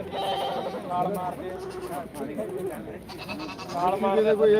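A male goat offered for sale bleats several times in wavering, nasal cries close by, mixed in with people talking around it.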